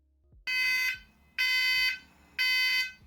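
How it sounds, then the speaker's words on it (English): A fire alarm in student housing blares in three loud, sustained electronic bursts, each about half a second to a second long with short gaps between, piercing and harsh over a quiet background. "The fire alarm went off in the student housing"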